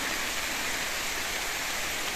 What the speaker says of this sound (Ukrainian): Отакий сильний дощ надійшов